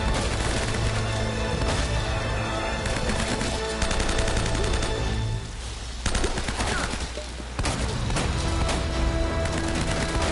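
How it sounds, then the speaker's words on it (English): Video game gunfire from Uncharted, dense M4 rifle bursts and loud shooting that runs almost continuously, with a brief lull midway, close and heavy throughout. "Good, I got an M4, that'll come in handy."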